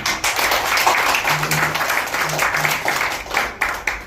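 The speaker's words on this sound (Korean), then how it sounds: "잘하시라고 박수 한번" Crowd applause at a year-end ceremony with an officers' inauguration, steady clapping from many hands filling a room for a few seconds, with voices murmuring underneath.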